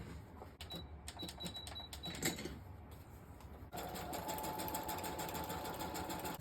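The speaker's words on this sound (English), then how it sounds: "maybe I'll go ahead and do a quick sew around." A sewing machine stitches around a handmade Easter card in short bursts, then runs in a steady, fast, whirring rattle close by.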